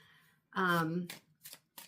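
A tarot card deck being shuffled up close, with a quick riffling burst followed by a couple of shorter card flicks, alongside a brief voice.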